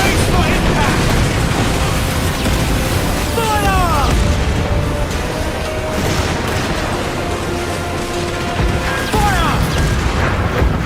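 Mortar blasts in the pirate naval game Assassin's Creed Black Flag, heavy booms and crashes rolling through dense sea-battle noise, with a voice talking over them.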